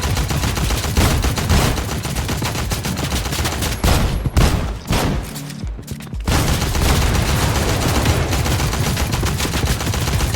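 Dense, loud video game gunfire played on a gaming PC, sustained bursts that stop briefly partway through and then resume.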